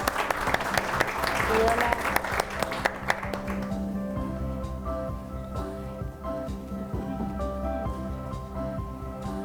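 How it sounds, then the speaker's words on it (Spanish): Applause from an audience at a women's forum greets a priest taking the floor, dense at first and fading after a few seconds, with a brief spoken greeting and room murmur afterward. "el aplauso espero que al final se repita también"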